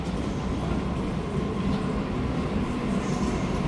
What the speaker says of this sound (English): it's just a really long train